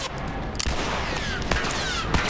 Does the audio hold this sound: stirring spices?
no